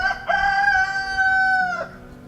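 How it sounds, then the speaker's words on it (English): A rooster crowing close and loud on a farm with chickens, ducks and a goat, one drawn-out crow with a rising then falling tone, with no talk. "Chickens."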